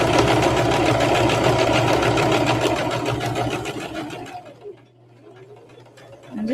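Sewing machine stitching a rag bag, running in a steady, loud mechanical whir for about four seconds before slowing and fading, then starting up again briefly at the end.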